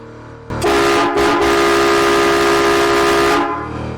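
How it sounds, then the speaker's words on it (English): Air horn fed by a Vixen 200 PSI onboard air compressor blasts one long, loud, steady train-like tone of about three seconds, close and alone, then cuts off. "does the air horn work?"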